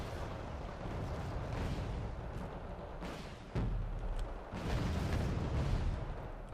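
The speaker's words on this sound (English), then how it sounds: "I love it when people use howitzer tanks. This used to the fact to do a giant boom, and I like giant booms." Howitzer artillery fire in the real-time strategy game Wargame Red Dragon: a dense, rumbling stretch of distant booms with a sharper impact near the middle and another swell toward the end, all loud and continuous with no talk.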